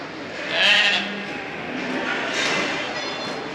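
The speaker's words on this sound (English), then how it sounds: "That is the very end of all our lambs right there." Lambs bleating on a farm, a short loud cry near the start followed by fainter overlapping calls against a steady background hum.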